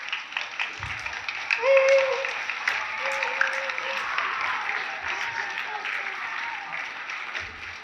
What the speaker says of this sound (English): Come on, men, let's give them a cheer.